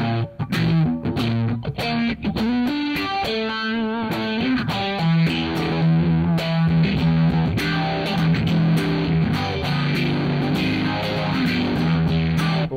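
An electric guitar played through a Zoom G1Four effects pedal delivers loud, continuous distorted bluesy notes and chords with sustained bends over several seconds.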